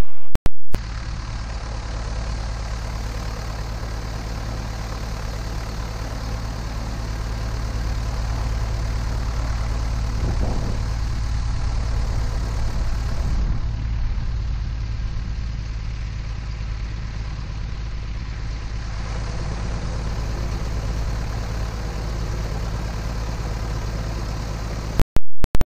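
An aircraft engine in a flight simulator game, set for takeoff with flaps at position 1 and 10 degrees, gives a loud, steady low drone with a constant hum that shifts slightly in tone midway and cuts off abruptly at the end.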